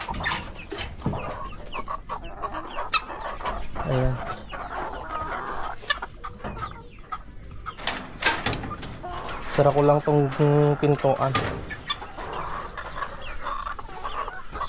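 Chickens cluck close by amid scuffling and a sliding door, with someone speaking briefly over them; a louder burst of clucking rises midway.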